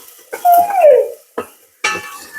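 Chopped onions drop into a hot Instant Pot multi cooker and hit the oil, followed by a few short clatters and scrapes of a utensil against the pot, close and fairly loud with no talking.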